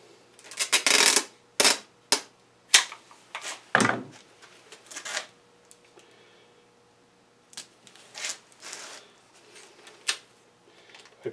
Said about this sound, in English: the tricky part is getting this tape on it